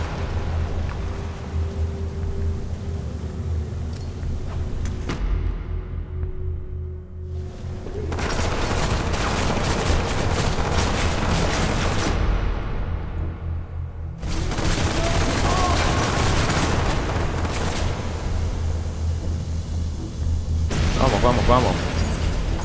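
Shotgun fire in the video game Hatred comes as dense, booming bursts of gunfire in several loud clusters separated by short lulls, with someone talking over the action.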